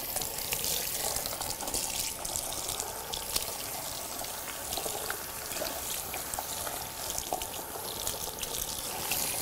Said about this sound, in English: as soon as you put the water on